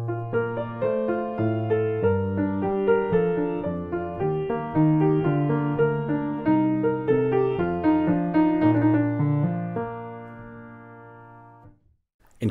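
Harpsichord-like keyboard plays a Romanesca bassline realization in the style of Domenico Scarlatti, a steady stream of chords over a descending bass at even loudness, fading out near the end.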